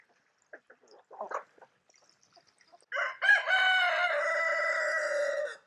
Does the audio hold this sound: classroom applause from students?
no